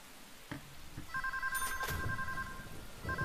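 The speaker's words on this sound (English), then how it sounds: "Pick up the phone!" In the video game Deadly Premonition, a telephone rings in repeated electronic trills, several bursts separated by short gaps, clear and fairly loud over faint background noise.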